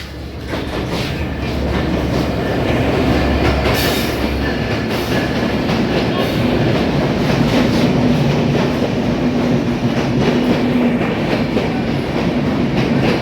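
The Kopotakkho Express, a passenger train, rumbles steadily and loudly into Darshana station, with rhythmic clickety-clack of wheels on rails and a metallic screech near the start, no voices.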